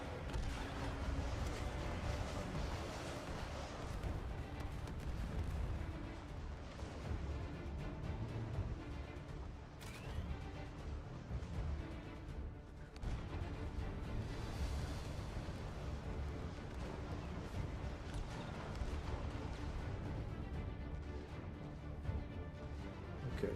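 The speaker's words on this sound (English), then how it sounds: "my burst artillery gets confused and just starts randomly shooting at my shit" Burst artillery units in Sanctuary Shattered Sun fire continuously in the distance, a dense rumbling wash of overlapping booms and impacts that stays steady and mid-loud throughout, with no voices.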